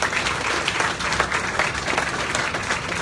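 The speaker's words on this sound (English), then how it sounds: "Please give them a round of applause." An audience at a groundbreaking ceremony for the Port Wonder venue on Lake Charles, Louisiana, claps in steady, moderately loud applause that fills the whole short stretch without a break.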